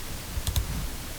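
Two quick, faint clicks of a computer mouse in close succession while working in MySQL Workbench, set against a quiet room hum.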